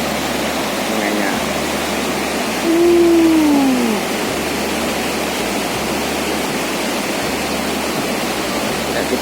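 Broad, steady roar of the Marmoyo River surging in a flash flood that collapsed a road, loud and continuous throughout with a brief swelling whoosh in the middle, and no voices over it.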